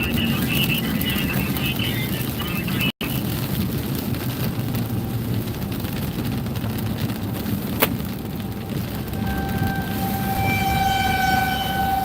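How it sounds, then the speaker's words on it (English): Far-off tornado sirens wail over Lecompton through steady rain noise during a storm chase, a faint rising tone in the background that stays low in the mix. "you can hear the tornado sirens are now sounding over in Lecompton"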